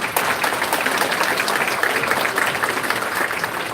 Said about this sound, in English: we should give her another round of applause